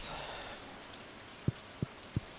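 Steady rain falls in the farming game Stardew Valley, a soft continuous hiss with three low thumps late on, quiet and without voices.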